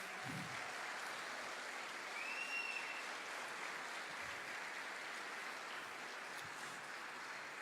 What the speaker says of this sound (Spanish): Eso merece un aplauso al Señor.